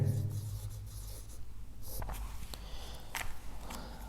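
Heading being written on a board, with soft, close scratching and tapping strokes in short irregular bursts over a low background hum.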